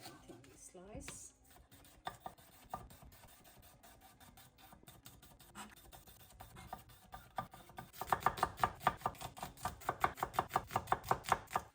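A knife thinly slices cucumber and red onion on a cutting board, starting with scattered cuts and then settling into a fast, even run of crisp chops that grow louder toward the end; no one speaks.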